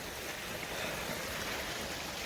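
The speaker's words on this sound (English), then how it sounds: "which is this little stream." A small woodland stream runs near a snowy Peak District camp in the UK with a soft, continuous wash of flowing water. It is quiet and steady, with no voices.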